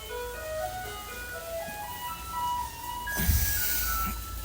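The electronic chime melody of a Taiwanese garbage truck rings out on the street over an engine hum, and then a loud rumbling surge of traffic noise rises near the end.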